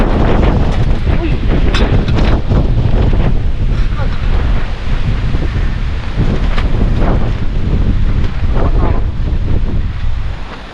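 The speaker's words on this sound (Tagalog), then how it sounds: "Biglang lakas yung hangin." Strong wind gusts roaring into the microphone during heavy rain at a motorcycle campsite near Mayon, Tabaco, Albay, a dense continuous rumble with loud buffeting bursts throughout, voices faintly underneath.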